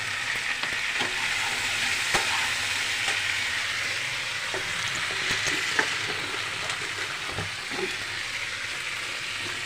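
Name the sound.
chopped tomatoes frying and being stirred in a pan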